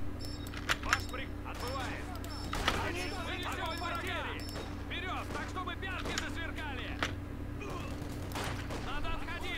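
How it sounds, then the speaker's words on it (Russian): Machine gun fire in the Company of Heroes 2 game, with scattered bursts and distant battle noise running under ongoing talk and a steady background hum. "Да, пулемет вот в углу прям и смотрит."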